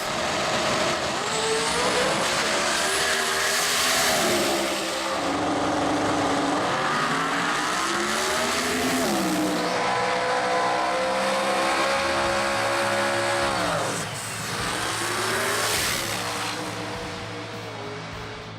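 Pro Mod drag racing cars roar through passes at a Sydney drag racing event, loud continuous engine howl with rising and falling pitch as cars launch and accelerate, a brief dip between runs, no talk.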